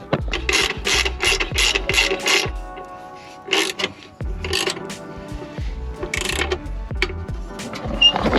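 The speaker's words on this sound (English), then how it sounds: "we can go ahead and tighten down these bolts here" A ratchet tightens differential bolts on a Nissan 350Z in a series of close, uneven clicking bursts. Metallic clinks and short rattles are scattered between pauses.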